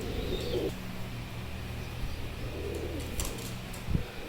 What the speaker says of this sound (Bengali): এক পেয়ার কবুতর দেখছেন মাশাল্লাহ একদম টপ পেয়ার